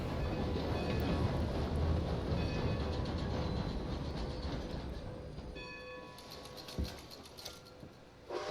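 A train rolls along in Red Dead Redemption 2 with a steady rumbling roar that gradually fades, followed by a few clanks and clicks near the end.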